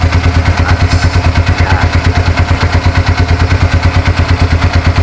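A motorcycle engine fitted with a no-limit RPM racing CDI runs loud and close, a steady rhythmic idle with fast regular pulses and mechanical clatter throughout.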